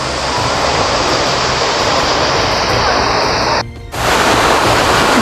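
A waterfall in the botanical garden in Tbilisi gives off a loud, steady broadband rush of falling water close by. The roar holds constant apart from a brief dip near the end, and no voices are heard.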